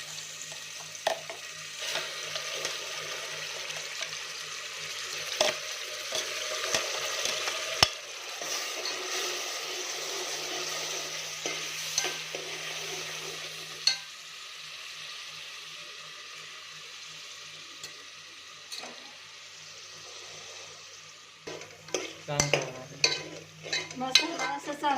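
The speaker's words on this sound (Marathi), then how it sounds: "आता हे मसाला तेलामध्ये घालू." Spice masala frying in about three spoons of oil for a village-style spicy mutton curry, a steady sizzle with stirring and occasional utensil clinks throughout, growing busier with scraping near the end.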